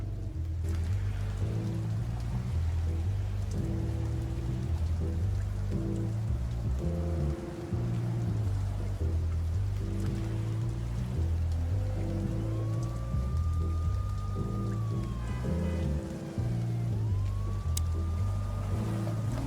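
Steady rain patters down in the Chicken Police video game, a constant hiss under moody background music with a faint rising siren-like tone near the end.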